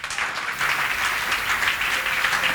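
A church congregation breaks into applause acclaiming the Lord, steady dense clapping that swells after a brief start and stays loud and continuous.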